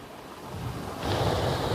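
Water from the dam at Meghamalai pours down one side of the spillway in a steady broadband rush, growing louder partway through and continuing without a break.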